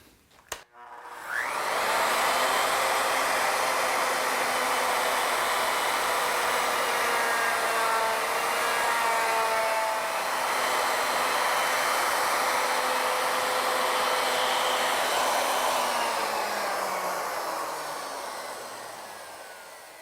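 Ornamental milling machine cutting wooden stock, a sustained high whining cutter drone that starts abruptly after a brief click, holds steady with shifting pitch, then tapers off near the end.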